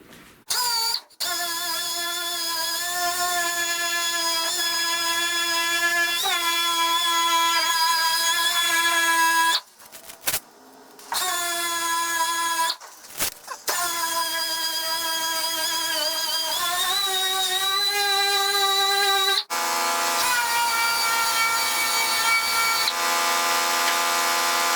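A DA sander works a 1970 Buick Wildcat trunk lid, a steady high-pitched whirring drone that pauses briefly a few times and shifts pitch under changing pressure, close and loud with no voices.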